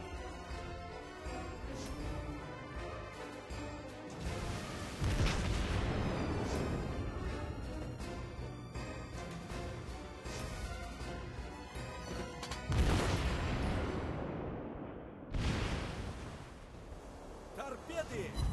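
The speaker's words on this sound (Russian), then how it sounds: "Выстрел!" Loud booming naval cannon blasts in a ranked game battle, with heavy explosions and crashing impacts recurring over a dense rumbling soundscape.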